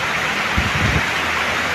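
Heavy rain driven by strong wind in Tacloban, a dense steady roar of falling water with a short low gust or rumble in the middle, no voices.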